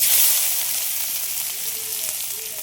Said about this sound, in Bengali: তেলের পরে একটা শুকনো লঙ্কা কেটে দিয়ে দিচ্ছি, জিরে, পেঁয়াজ কুচি